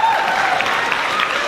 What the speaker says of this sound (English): Give them also a round of applause.